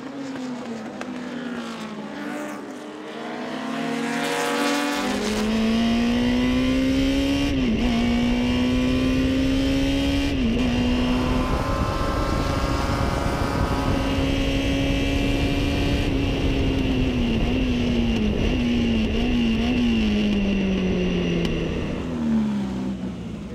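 A 1962 Lotus 22 Formula Junior race car accelerating hard out of the corkscrew corner: a loud, close, high-revving engine wail rising through several gear changes, with brief dips at each shift before climbing again.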